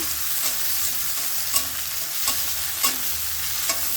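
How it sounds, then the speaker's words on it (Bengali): Onions and green chilies fry in hot oil in a wok, giving a dense, even sizzle with a few sharp stirring scrapes spaced through it, close up and without voices. "কড়াইটা গরম হয়েছে তেল দেব শাকটি বেজে নেব তেলের মধ্যে পেঁয়াজ আর কাঁচামরিচ দিয়ে দিছি"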